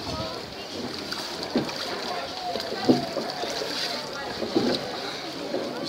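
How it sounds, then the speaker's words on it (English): Open sea waves in Tunisia slosh and splash around a swimmer, a continuous watery wash with a few sharper splashes breaking through. "Waves. Too strong."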